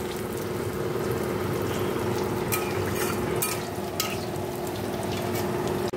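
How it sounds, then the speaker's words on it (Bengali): Fish roe fritters fry in hot oil, a steady close sizzle and crackle with a faint hum beneath and a few light clinks of a utensil against the pan. "দেখো মাছের ডিমের বড়াগুলো ভেজে নিচ্ছি।"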